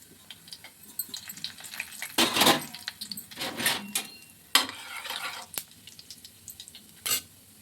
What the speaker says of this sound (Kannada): ಎಣ್ಣೆ ಕಾದ ನಂತರ ಫಸ್ಟು ಜೀರಿಗೆ, ಸಾಸಿವೆ